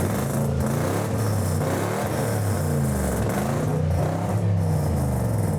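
A Nissan Patrol fitted with a Toyota engine idles and revs close by, its deep rumbling exhaust rising and falling in uneven pulses with no talking.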